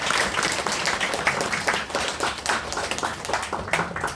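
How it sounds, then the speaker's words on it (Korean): Audience applause at a Korean traditional music book concert, a steady dense wash of many hands clapping throughout, loud and close, with no voices over it. "이 대목에서 박수 한번 주셔도"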